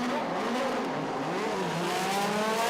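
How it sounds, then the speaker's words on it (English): Race cars accelerating on a circuit warm-up lap, weaving to heat their tyres, with several engines revving loudly and rising in pitch as they pass close by. "All trying to get a bit of heat into their tyres now. Great sound effects as they head down towards"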